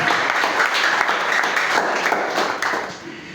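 Church congregation applauding during a Spanish-language worship service, a dense, steady wash of clapping that holds throughout and tapers off slightly at the end.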